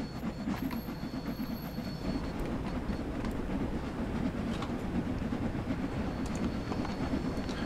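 A steam locomotive pulling the Hogwarts Express on the Northern Trans Pennine route in Train Sim World 2: a steady, dense rolling rumble with faint rail clatter and a brief high squeal near the start, continuous and loud.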